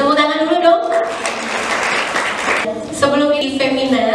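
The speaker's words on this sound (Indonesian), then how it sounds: "Tepuk tangan dulu dong." A seminar audience applauds in a burst of clapping in a hall, breaking out between stretches of a moderator's amplified speech.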